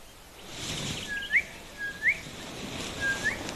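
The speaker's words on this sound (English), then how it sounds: "Southern boo-boo calling now." Southern boubou calling in the African bush, a few short, clear whistled notes repeated at intervals, moderately near, over a soft background hiss.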